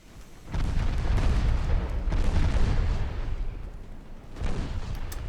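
A torpedo strikes the ship Aquila in a naval warship game: a sudden deep, rumbling boom cuts in and rolls on for several seconds, swelling again with a second heavy impact near the end.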